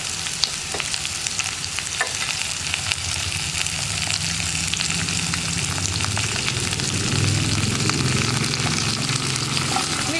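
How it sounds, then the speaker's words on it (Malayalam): Chopped onion, green chili and curry leaves sizzle and fry steadily in a pan for a plantain stir-fry, a continuous close crackle with occasional stirring scrapes and no voices. "നമ്മൾ കട്ട് ചെയ്ത് വെച്ചിരിക്കുന്ന സവാള, പച്ചമുളക്, ഇതിൻ്റെ കൂടെ കറിവേപ്പിലയും കൂടി ചേർത്ത് കൊടുക്കുക"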